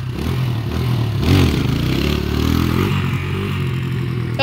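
Dirt bike engine revving hard during a wheelie attempt, a loud mid-pitched motor that rises and falls over a few seconds, close by, with some clatter.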